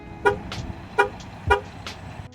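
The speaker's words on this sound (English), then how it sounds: "Do you guys think I locked my car enough?" A car horn gives three short toots in quick succession as the car is locked, close and loud, with a fainter chirp between them outdoors.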